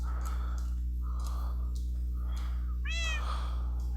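A cat meows several times in a video game, short close cries repeating over a steady low background hum, with the last meow the clearest.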